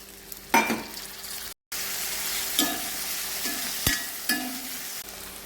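Turmeric, pepper and chili powder frying in hot oil, giving a steady close sizzle broken by a few stirring scrapes and clicks, with a brief dropout partway through.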